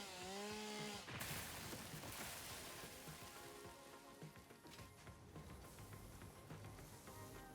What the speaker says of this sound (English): We need the chainsaw for this guy.